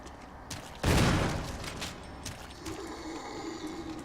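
A single loud shotgun blast in Resident Evil HD Remaster, a sharp close boom that decays into a trailing rumble, followed by quieter mechanical clicks and shuffling.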